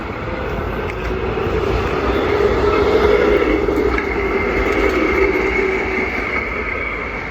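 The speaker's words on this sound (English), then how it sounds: "you can see all the trams and everything" Trams passing through a city street make a loud, continuous rolling rumble that swells slightly at its middle and then holds steady, with no voices.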